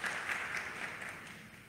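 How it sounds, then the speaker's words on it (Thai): Brief, fairly faint applause from a seminar audience thanking a lecturer, a soft even patter of clapping that tapers slightly over a second or two. "ขอเสียงปรบมือ"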